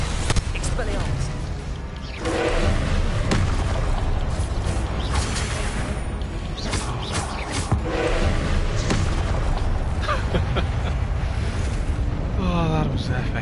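Spell effects cast in quick succession in Hogwarts Legacy: a dense, continuous wash of whooshing, crackling and grinding magic blasts, loud and close, with several sharper bursts layered over a constant roaring bed.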